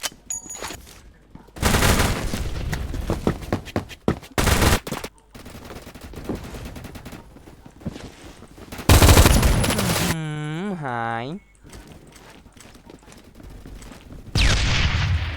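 Bursts of rapid gunfire and heavy blasts from bombing in a video game come in loud waves, separated by quieter gaps, with a warbling siren-like tone in the middle.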